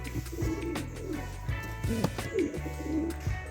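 Pigeons coo softly in low, throaty repeated phrases, with faint chirps and rustling around them; fairly close, no talking.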